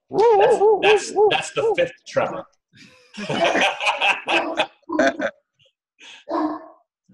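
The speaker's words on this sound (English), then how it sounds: "That's my dog." A dog barking in a room during a casual talk-show recording, a few quick yelps mixed in with lively speech and laughter from several people.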